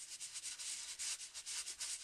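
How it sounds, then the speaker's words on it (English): A sanding block rubbed quickly back and forth across the top of a paper print, a soft, faint scratchy rasp in short repeated strokes, alone. "I'm going to take my sanding block and just sand the top real quick"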